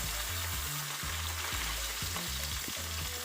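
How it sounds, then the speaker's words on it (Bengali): Small rohu fingerlings fry in hot oil in a pan, a steady loud sizzle with crackling bursts throughout and no voices. "মাছগুলি ততক্ষণ ভাজা হতে থাকুক"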